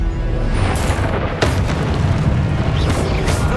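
An Expelliarmus spell is cast during a duel in Hogwarts Legacy, a loud booming magical blast over dense game noise, with a sharp whooshing burst partway through and another flare near the end.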